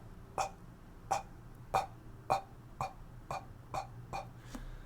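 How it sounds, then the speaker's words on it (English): Eight soft, short coughs at an even pace, each a brief controlled puff of air, close and fairly quiet with pauses between. "You want to be able to hear that silent cough, not too loud and not too silent"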